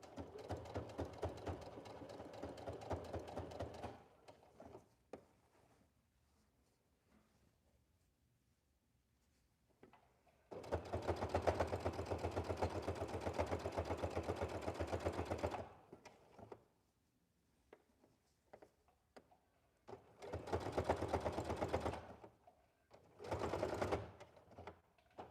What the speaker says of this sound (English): I'm using a straight stitch 4, and again, you should use whatever stitches are right for sewing knits on your machine.